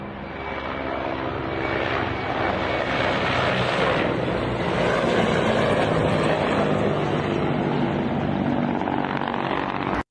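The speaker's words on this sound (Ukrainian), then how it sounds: "У соцмережах також з'явилося відео із парою ударних гелікоптерів" A pair of Mi-24 attack helicopters flies at low altitude, making a loud, continuous roar of rotors and engines that holds steady for about ten seconds, with no talking.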